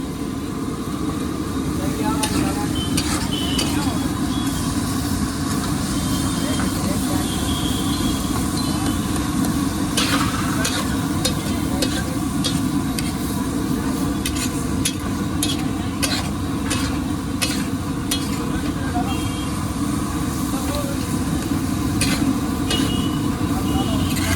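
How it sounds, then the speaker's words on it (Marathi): Ginger-garlic paste sizzles on a hot street-side tawa for pulao: a steady, dense hiss runs throughout, with scattered clicks and scrapes over an engine-like rumble from the street. "त्यामध्ये अद्रक आणि लसणाचं पेस्ट टाकण्यात येत आहे"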